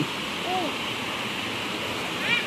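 Water from a natural spring flows in a steady, continuous rush, close and moderately loud, with a brief voice heard at the end.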